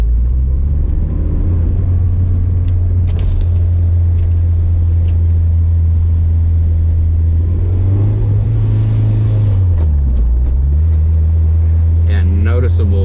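Honda S2000 with a JDM F20C engine coasting on deceleration down a hill, a loud steady droning engine note heard from inside the car that dips and swells as revs shift, with faint talk underneath.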